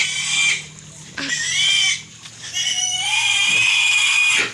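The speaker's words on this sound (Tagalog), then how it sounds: "Si JJ Inaano niya yung biik." A piglet on a countryside farm squeals loudly and repeatedly in long, high, shrill cries, close by, with brief pauses between them and faint background noise.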